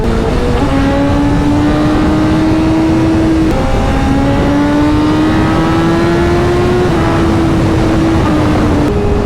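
A sport motorcycle with a short Akrapovic exhaust can revs loudly and continuously, its pitch climbing and dropping in repeated surges under a rough, throaty exhaust roar.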